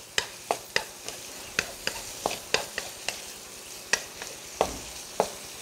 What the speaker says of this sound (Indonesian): Kita masak udang dulu. Tuh, kita masak udang dulu.